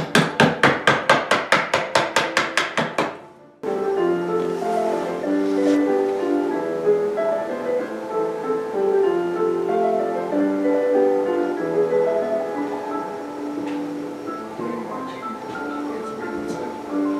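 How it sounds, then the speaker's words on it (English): A mallet drives a chisel into a piece of wood to carve a leaf shape, producing about a dozen evenly spaced, sharp blows in quick succession. The blows stop abruptly and are followed by a sustained tonal backing. "I have a chisel here that I'm going to use. Just getting out a form of a leaf is all I'm really doing."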